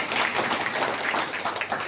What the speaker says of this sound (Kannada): ಎಲ್ಲರೂ ಜೋರಾಗಿ ಚಪ್ಪಾಳೆ ತಟ್ಟಿ ಅಭಿನಂದಿಸಿ